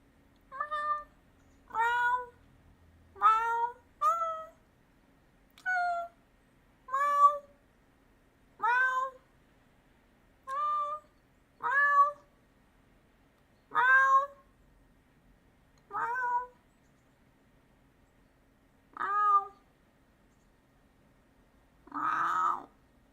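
A person imitates a cat with a series of about a dozen separate meows, each a short rising-and-falling wail spaced a second or two apart, close and clear against near silence, ending on a louder, rougher yowl.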